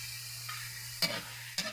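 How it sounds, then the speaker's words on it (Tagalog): Pork with onion and garlic sautéing in a pan for baboy with sitaw, a steady low sizzle broken by two sharp bursts of stirring as the meat is tossed, close and without talk. "Gisahin na natin ito ng maayos guys."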